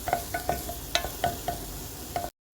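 Onion and garlic sautéing in a pan for adas lentil soup, with a steady hiss under repeated close scrapes and taps of a spoon stirring, no voices.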